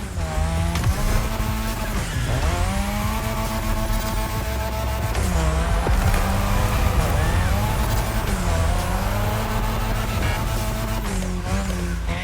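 A car drifts around the drift track in The Crew Motorfest, its engine roaring loudly and continuously with rising and falling revs and tire squeal layered throughout.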